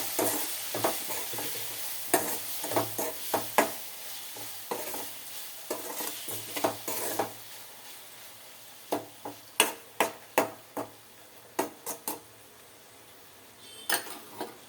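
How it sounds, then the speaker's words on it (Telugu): Chopped tomatoes fry with dried shrimp in a pan, a soft steady sizzle broken by repeated scraping stirs of a utensil against the pan in irregular bursts, close and with no talking. "ఇప్పుడైతే టమాటాలు ముందుగా కట్ చేసి పెట్టుకున్నాం కదా, వాటిని కూడా వేసి వేయించేసుకుంటున్నాను."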